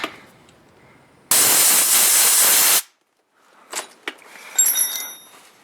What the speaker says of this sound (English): A little shot of air.